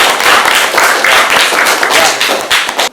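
A class of students clapping for a classmate named Suci, a dense burst of many hands applauding close by that tapers off at the end, with voices mixed in.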